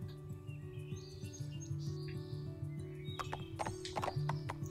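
A horse clip-clops and whinnies in the Barbie Wild Horse Rescue video game. Steady hoofbeats run under game music and bright chirping birdsong, with a neigh sounding partway through, at moderate level and no speech.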